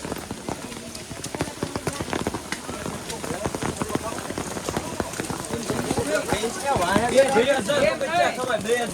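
Rain patters steadily outdoors on Girnar mountain's trail while footsteps and horse hoof clops sound along it, with voices talking loudly over the wet background.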